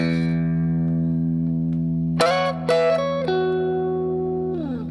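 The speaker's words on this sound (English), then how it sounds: "we do this little double stop slide here" An electric guitar plays a double stop slide lick from a song: a sustained chord tone rings, then several quick sliding two-note bends and slides follow, clean and close, with no talking.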